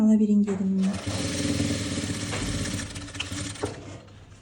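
A sewing machine stitches the shoulder seam of a bomber jacket in one steady, close run of about three and a half seconds, its fast mechanical whir starting just after a short bit of voice.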